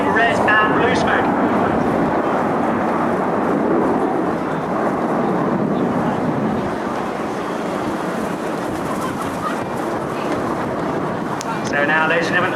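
Jet aircraft of the RAF Red Arrows formation pulling into a steep climb at an air show, a steady broad roar of engines sustained throughout, with a public address announcer talking over it.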